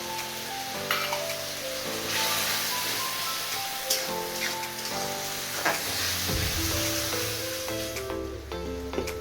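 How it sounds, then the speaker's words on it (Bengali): Tomato paste frying in a pan with ginger, garlic and chili paste, a loud, close, continuous sizzle with crackling spatter and stirring, rising into a fuller hiss near the end. "এবার দিয়ে দিচ্ছি করে রাখা টমেটো পেস্ট।"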